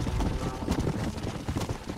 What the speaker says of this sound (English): I like the way he rides his horse